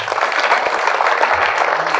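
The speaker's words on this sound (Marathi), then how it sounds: "यांच्यासाठी एकदा टाळी वाजवली." Dense, close applause rises from the crowd at a Marathi kirtan in Ratnagiri, honouring elderly warkari devotees, as a brief burst of steady clapping.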